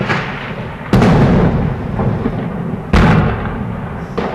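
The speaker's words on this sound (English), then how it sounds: "A new government offensive, more airstrikes, is happening now." Airstrikes and explosions on a Syrian war front line during a government offensive, with two loud, booming blasts a couple of seconds apart over a constant rumbling background, followed by a fainter third burst.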